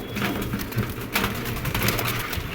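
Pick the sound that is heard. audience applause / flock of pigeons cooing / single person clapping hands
flock of pigeons cooing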